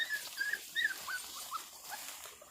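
A mother dog with seven young puppies gives a few faint, high whimpers and yips spread across a quiet background, with no talk.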